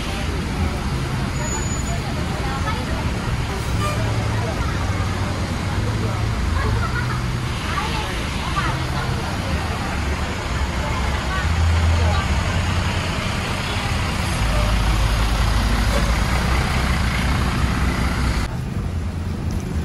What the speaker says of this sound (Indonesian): di sini ada Jetbus 3 pariwisata Lisan Graha Tirta Transport